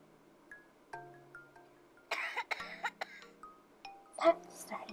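A single cough in a video game, followed by game sound effects, chimes and brief synthetic vocal blips, all at moderate level.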